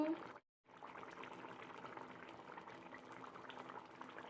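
Spicy red chilli fish curry, finished with coconut oil and curry leaves, simmers in a covered pot, giving a steady, close bubbling hiss that breaks off briefly near the start before resuming.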